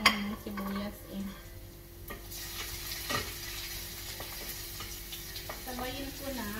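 Garlic, ginger and onion sauté in a pan at home, with steady sizzling and frying under scattered metallic clinks and scrapes of a utensil stirring against the cookware.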